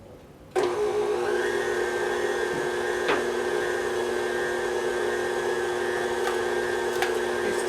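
A KitchenAid grinder attachment whirs into action grinding cranberries, starting abruptly and then holding a steady, close motor drone with faint crunching ticks.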